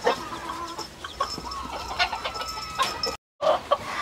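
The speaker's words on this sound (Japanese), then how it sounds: "ずっとニワトリがわさわさしてるのを一日中見てますね" Chickens in a coop cluck and fuss continuously, with overlapping short calls and occasional louder squawks at moderate distance. The sound is fairly quiet and breaks off briefly near the end.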